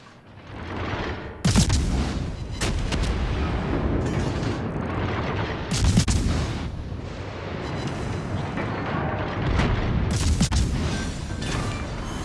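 Battleship main guns boom repeatedly in World of Warships: Legends, with a Khabarovsk in the fight, heavy salvos firing at irregular intervals over continuous rumbling engine and sea noise, loud and close.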